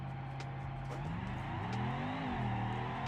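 A drag car in the BeamNG driving game launches on nitrous, its engine revving hard and climbing through a gear change with a faint tyre squeal, heard at fairly low volume.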